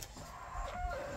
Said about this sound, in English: You're going to hear lots of noise because of the chickens are right beside me.